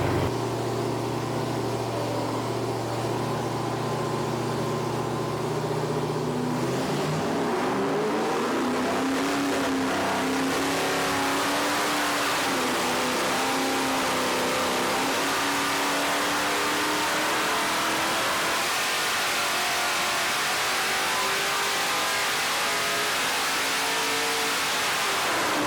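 A carbureted 5.0L Chevy 305 V8 on nitrous runs loud and close, a steady idle that rises into sustained high revving, unbroken throughout.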